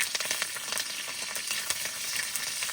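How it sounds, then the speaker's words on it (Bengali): Dried red chillies and mustard seeds frying in hot oil in a wok during village cooking, giving a steady, close, crackling sizzle with scattered sharp pops throughout and no voices. "কড়াইতে তেল দিয়ে দেবো। তেলের উপর দিয়ে দেবো শুকনো লঙ্কা আর সর্ষে"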